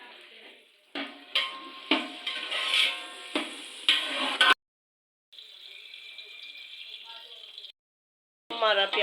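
Onions fry in ghee for a chicken yakhni pulao, crackling and hissing in rhythmic bursts as they are stirred, then a steadier bright sizzle after a brief gap, with a voice talking over the cooking.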